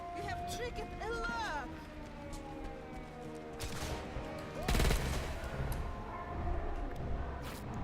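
Video game gunfire in a Far Cry-style shooter: scattered shots and short bursts mixed with a wailing siren-like tone, heard under excited talk, with a louder cluster of shots in the middle.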